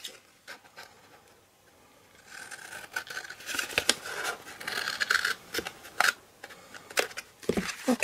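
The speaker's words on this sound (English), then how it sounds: "cut that bit off where the 1/2 inch score line is" Scissors snipping through card to cut away scored corner pieces for a tall curved Easter box, a series of close, crisp cuts and rustles following a quiet start.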